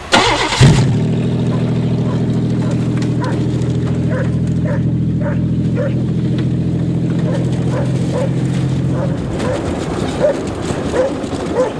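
Buick 3.8 V6 engine idling steadily inside a car crushed by a 20-ton dozer, a loud, close, continuous rumble that cuts off near the end, with a dog barking repeatedly in the background.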